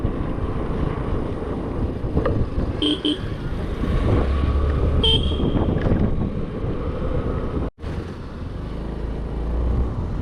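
A vehicle passes on a mountain road in Arunachal, its engine rumble and tire noise steady and fairly loud under strong wind buffeting the microphone, with a brief dropout near the end.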